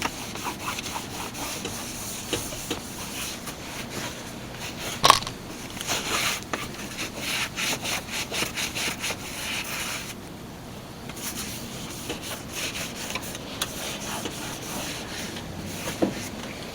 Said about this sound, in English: Then just get your rag in there and just wipe her down.